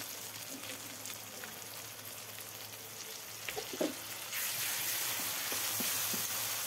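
Ginger garlic paste frying with fried onions in a pan gives a soft, steady sizzle and hiss, faint and close, swelling louder in the last couple of seconds, with a few small stirring clicks and no talk.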